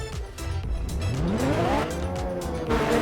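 Video-game car exhaust and engine in Minecraft, a steady revving drone with rising and sliding pitch and brief tire-squeal tones, loud and continuous with no talk.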